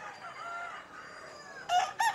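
A regular gray gamefowl rooster, eight months old, crows faintly in the distance, followed by a couple of short, louder clucking calls close by at the end.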